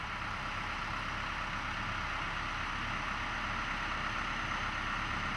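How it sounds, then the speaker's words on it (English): A Hino truck engine idles steadily and continuously, a dense low rumble with constant hiss at even loudness throughout, with no talk. "Then start the engine."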